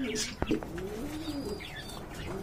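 Female running pigeons coo in soft, low rolling phrases close by, with a brief sharp flutter or knock early on and faint chirps above; no one speaks.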